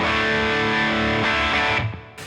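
Distorted electric guitar through a 1x12 tweed-style cabinet rings out in sustained chords, bright and crunchy, then cuts off abruptly near the end.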